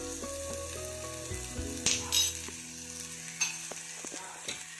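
Paneer masala paste with turmeric and coriander frying in a pan over low gas, a steady soft sizzle with a few brief scraping stirs, close and alone with no talk.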